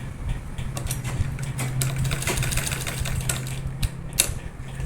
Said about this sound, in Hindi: इस पर एक बार और सिलाई लगा लेंगे इस तरह से।